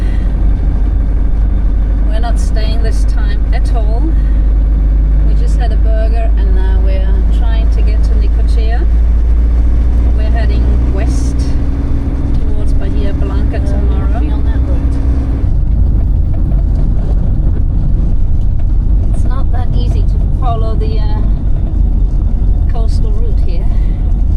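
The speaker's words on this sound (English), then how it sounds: "So we're driving through Mar del Plata." Steady loud engine drone and road rumble inside a car driving through Mar del Plata, Argentina, continuous throughout while people talk inside the cabin.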